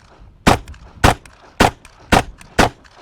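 An HK Mark 23 pistol fired five times at an even pace, each shot a sharp, loud crack close by with a short tail, no voices between the shots.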